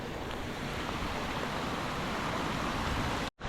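Heavy creek water rushing steadily at a swollen stream crossing near Indian Flats Falls, a loud continuous wash with no talk, cutting off abruptly just before the end.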